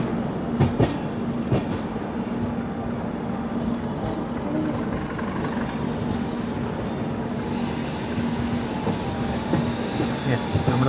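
The Kerala Express pulling into a platform makes a steady rolling rumble with rhythmic wheel clacks over rail joints, fairly close and loud, with some muffled background voices.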